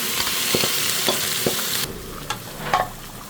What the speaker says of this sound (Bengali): এখন আমি শাকটা দিয়ে দেবো এখানে